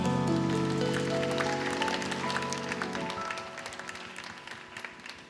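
A church congregation at a Korean worship service claps together, a broad sustained wash of applause over a fading organ or keyboard chord, moderately loud and gradually thinning toward the end.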